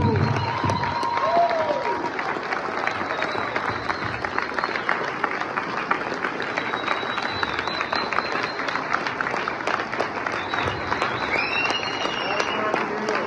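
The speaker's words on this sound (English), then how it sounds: "let's give a big round of applause one to another." Crowd applause at an outdoor rally against CPS trafficking, steady broadband clapping sustained throughout, with some cheering and voices mixed in at moderate distance.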